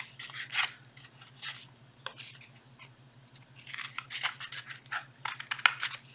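Scissors snip through material for a light sculpture, working around the piece in a series of short, close, crisp cuts and rasping rubs, with quiet pauses between bursts.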